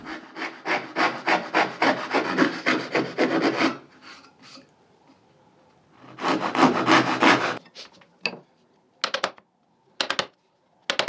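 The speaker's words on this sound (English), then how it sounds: "So here I'm basically cutting out the tails for the side pieces" A hand saw cuts dovetail tails in wooden drawer sides: a fast, close run of rhythmic rasping strokes, a pause, a second burst of strokes, then a few short final cuts.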